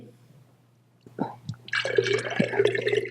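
Water is poured: a couple of brief splashes, then a steady close pour with a bright liquid rush that runs to the end.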